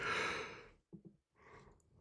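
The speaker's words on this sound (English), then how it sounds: "my first yawn of the night" A person at a late-night video editing session lets out a long, breathy yawn that fades out, followed by a couple of short nasal breaths and a softer exhale, close and quiet.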